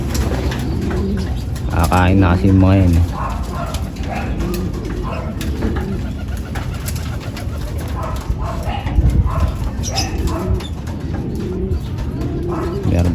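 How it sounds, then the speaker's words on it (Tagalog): Domestic pigeons cooing steadily as they enter their loft, with soft repeated coos and some wing and movement noise close by, while someone talks over them. "Yun, nagpapasukan yung mga kalapati natin."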